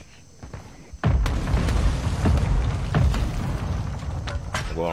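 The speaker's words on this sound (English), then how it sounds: "Oh, mortar they mortared us." Mortar shells strike during a Warzone match, a sudden heavy boom followed by several more rolling explosions and sustained rumbling, loud and close, with players talking over the blasts.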